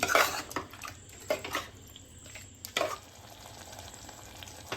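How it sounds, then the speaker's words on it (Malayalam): Masala is stirred into a thick potato curry in a pan, with bursts of sizzling and spoon scrapes coming in uneven waves over a low bubbling hiss, close and moderately loud. "ഇനി നമുക്ക് ഈ മസാല ഇതിലിട്ടിട്ട് തിളയ്ക്കണ വരെ ഇളക്കാം"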